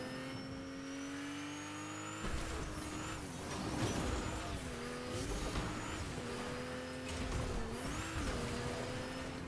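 A car in Fortnite drifts and revs, the engine note rising and dipping in repeated swells as it slides, with faint tire squeal and no talking.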